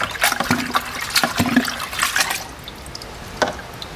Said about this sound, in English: Put it in my 2 gallons. I'll mix it around.